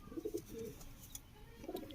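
A female pigeon of the golden breed coos softly in a few low, rounded notes, near but faint, with brief chirps and quiet background noise and no talk.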